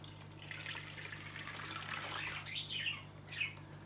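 Water poured from a container into a bag holding fish, a soft continuous splashing and trickling across a few seconds with small brighter bursts near the end, recorded indoors over a low electrical hum.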